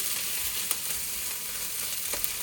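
Tomato, onion, ginger, garlic, cinnamon, cardamom, cloves, cumin and fennel frying in a pan as the base for a chicken curry: a soft, even sizzle with a couple of faint clicks and no voices.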